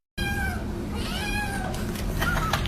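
A domestic cat meows repeatedly, with close, drawn-out rising and falling cries over a steady, noisy background.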